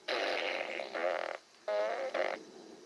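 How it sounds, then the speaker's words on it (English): A Despicable Me fart toy lets out two loud, buzzy, rippling fart noises, each a drawn-out blat in a couple of bursts, with a brief silence between them. "This show consists mostly of flutes and fart noises."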